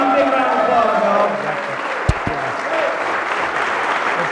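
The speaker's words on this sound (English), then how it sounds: "give him a big round of applause" An audience at a Dick Gregory live show in Baltimore claps and cheers for him in steady, dense applause that runs throughout, with crowd voices mixed in and a brief thump near the middle.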